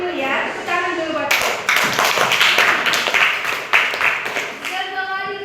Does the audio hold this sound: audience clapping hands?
yes